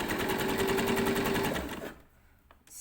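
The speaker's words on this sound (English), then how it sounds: "Again, you will need to reverse, and then you continue stitching, stopping and lining up." Sewing machine running steadily as it stitches the inner leg seam of a pair of summer shorts, a fast even whir for about two seconds, then stopping into near quiet with faint handling noises.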